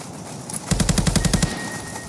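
Automatic weapon fire in the VR shooter Contractors VR: one loud, close burst of about eight rapid shots lasting under a second, with quieter background before and after.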